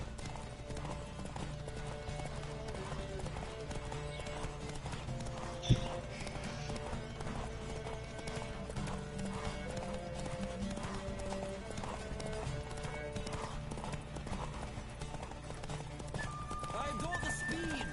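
Rhythmic hoofbeats of a horse galloping steadily throughout in The Witcher 3 on PS4, with a brief sharp knock midway and a rider's voice speaking over the steady clip-clop.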